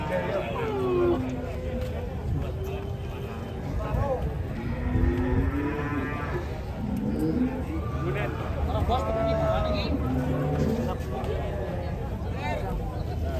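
A giant cow moos repeatedly at a livestock market, the low calls coming again and again amid busy crowd chatter and people talking nearby.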